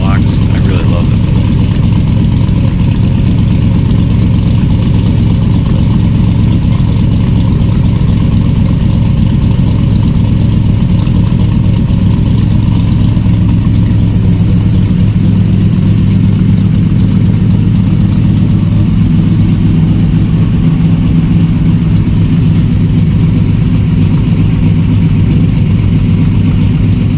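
A C3 Corvette with a swapped LS V8 idles through sidepipes fitted with muffler inserts, a loud, close, deep rumbling burble that stays steady and lumpy throughout, with a voice talking over it.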